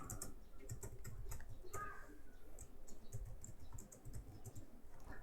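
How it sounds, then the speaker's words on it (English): Rapid typing on a computer keyboard, light keys clattering in quick irregular bursts, close and fairly quiet against a faint background hiss, no one speaking. "Now you can type your message here."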